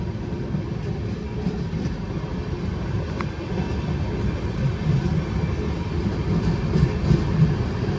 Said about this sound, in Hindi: ये रेल एक और सुरंग में अब जाती नज़र आ रही है।